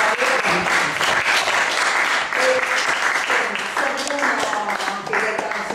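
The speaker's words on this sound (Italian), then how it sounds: "chiederei un applauso" Lively audience applause at a book festival event, loud and sustained, with voices talking and calling out over the clapping.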